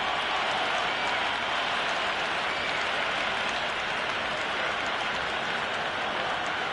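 In the Cricket 26 video game, an excited stadium crowd roars during an Ashes Test match after a wicket falls, a loud, unbroken wash of cheering and noise that holds steady throughout.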